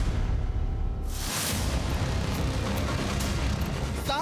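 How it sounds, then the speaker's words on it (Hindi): Fireworks at New Year 2026 celebrations, one sudden loud burst followed by a continuous crackling, rumbling barrage, heard without talk. "हर तरफ रोशनी और आतिशबाजी हो रही है।"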